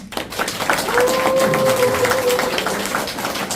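An audience at a chamber of commerce CEO lecture applauds, a moderately loud crowd clapping steadily for a few seconds, with a faint tone and some voices mixed in underneath.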